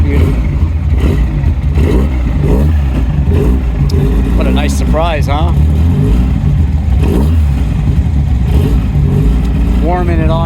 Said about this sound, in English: Listen to that alpha engine.